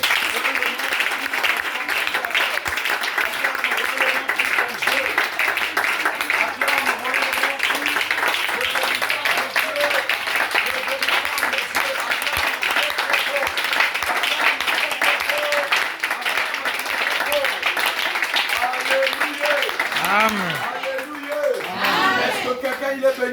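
A church congregation at a Sunday service applauding and cheering, steady dense clapping throughout with voices mixed in, tapering near the end.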